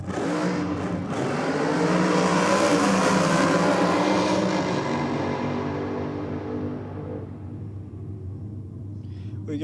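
A nitro-powered Fiat Topolino drag car launches hard at a drag racing event, its engine a loud, broad roar that swells over the first few seconds and then fades steadily as the car pulls away into the distance.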